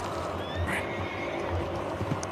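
Horses in the Red Dead Redemption 2 video game, including a Belgian draft horse. A whinny and neighs sound over steady game ambience, with faint hoof clops in the background.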